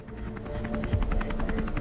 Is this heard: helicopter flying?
yes